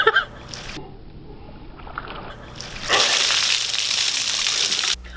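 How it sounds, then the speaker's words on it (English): Water splashes as a person outdoors is dunked with it, a loud rushing gush lasting about two seconds after a quieter lead-in. "I hope you enjoyed seeing me get dunked with water"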